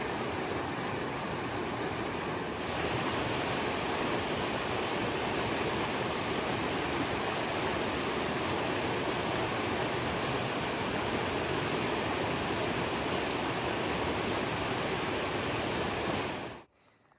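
River water rushes at a hiking trail crossing on the Continental Divide Trail, a dense, steady roar that fills the whole stretch without pause, close and loud, then cuts off abruptly at the end.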